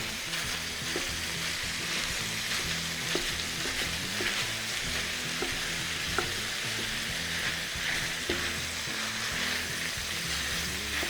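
Ground turkey fries in a cast iron pan with a steady soft sizzle, broken by occasional light scrapes and clicks of stirring, close and without any talk.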